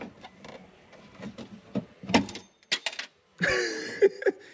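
A metal window clip falling inside the door of a 2003 Jeep Grand Cherokee during a window regulator install: a cluster of sharp metallic clinks and rattles, with scraping and tool handling around it, close and fairly loud.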